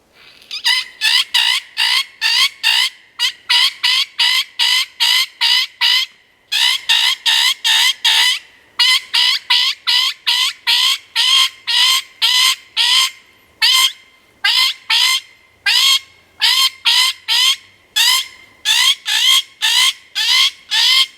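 A predator call for hunting is blown with a throat growl to mimic a prey bird in distress, giving loud, close, raspy squawks in rapid rhythmic bursts that repeat steadily for about twenty seconds with brief pauses and no talking.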